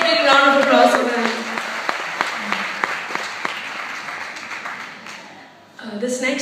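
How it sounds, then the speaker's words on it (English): Concert crowd at a live music show in Chennai claps for the performers, scattered distinct claps under a fading voice, thinning out before speech resumes at the end. "can we have a next big round of applause for them?"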